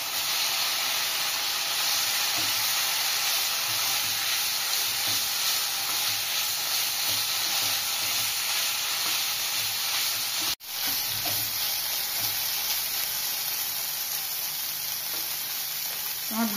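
Pieces of chicken fry in a hot pan, producing a loud, continuous hiss and sizzle that holds steady throughout, with one brief dip partway through.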